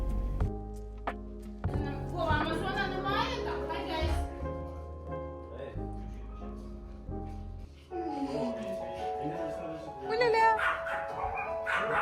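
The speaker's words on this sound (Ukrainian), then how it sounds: "В них є два песики Дейзі і Флапі, і котик Люся." Two dogs at a family Easter gathering in America yip, bark and whimper in short bursts, fairly close, over music and people talking.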